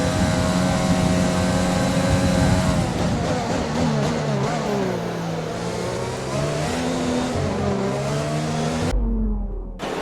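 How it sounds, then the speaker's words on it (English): Formula 1 race car engine from the F1 2020 video game, a Red Bull pushing hard on track, with a loud high-pitched whine that climbs and drops through gear changes and braking, cutting off abruptly near the end. "On board now with Verstappen as he pushes his car to the limit and passes Sebastian Vettel at ease"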